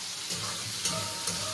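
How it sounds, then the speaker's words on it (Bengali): Fish pieces frying in hot oil, a steady close sizzle with a few brief louder bursts as more fish goes into the pan, no talking. "এবার অল্প অল্প করে মাছ ভাজবো"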